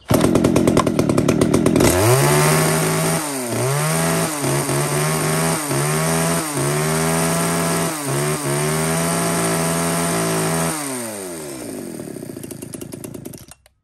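A used Japanese-market chainsaw with a 30 cm bar and a 91-type chain, one of a lot of STIHL, Husqvarna, Komatsu, Shindaiwa and Hitachi saws, starts up and runs loud and close, its engine revving up and down repeatedly before dropping back to idle.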